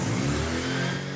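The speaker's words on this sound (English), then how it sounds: "Nothing wrong with that engine." A Mazda RX7 engine revs hard on a dyno, a loud, steady, close mechanical drone with strong harmonic tones held for the whole short stretch.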